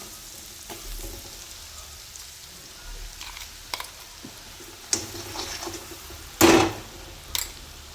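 Spices and oil sizzling in a hot pan, a faint, steady crackle with scattered clicks and one louder hissing burst near the end.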